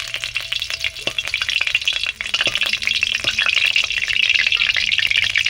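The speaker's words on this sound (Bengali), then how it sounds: "প্রথমে কড়ার মধ্যে সরষে তেল দিয়ে দিয়েছি, ওর মধ্যে ফোড়নের জন্য শুকনো লঙ্কা দিয়েছি" Dry red chillies spluttering in hot mustard oil in a wok, a dense continuous sizzle with crackling pops, close and loud, no voices.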